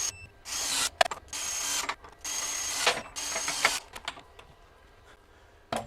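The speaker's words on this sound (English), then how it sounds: "I'll go ahead and torque these 4 to 100 foot-pounds" A FLEX 24V compact impact wrench torquing bolts, several loud whirring bursts of about a second each with short gaps between them, heard up close.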